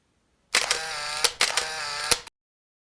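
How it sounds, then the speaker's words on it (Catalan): A single-lens reflex camera fires two shutter releases in close succession, each a crisp mechanical clack followed by a sustained whirring drive, loud and close with no talk. "primer vaig a fer les fotos a totes les coses que són cercles"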